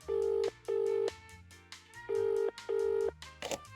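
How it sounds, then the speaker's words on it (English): A telephone being dialed in the video game Escape from Ever After: four long, steady electronic tones in two pairs, loud and close, over a soft layered game soundtrack. "Please wait 1 second while I phone my boss."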